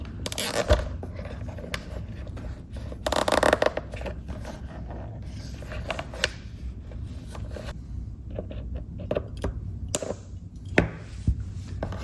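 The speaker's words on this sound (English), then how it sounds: "I'm using a very small zip tie." A very small plastic zip tie is ratcheted tight around wiring during a motorcycle lower fender light installation, giving a short run of faint clicks and scrapes close by, with no talking.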